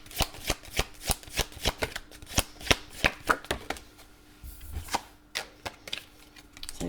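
Tarot cards shuffled and drawn, a series of sharp snapping card flicks at a steady rhythm followed by softer sliding and slaps, close and fairly loud with no talk.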